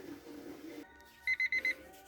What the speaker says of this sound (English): our timer had just gone off now